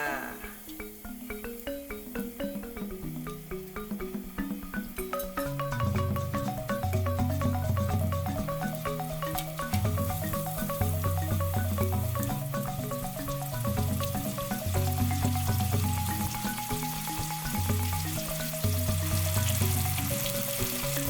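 Pork pieces fry in moderately hot oil for a Thai dish, giving a steady, close crackling sizzle under loud melodic background music.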